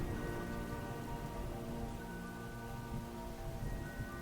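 Rain falls during a storm as a dense, steady wash of hiss, with a low rumble underneath and no distinct drops or breaks, fairly faint and continuous.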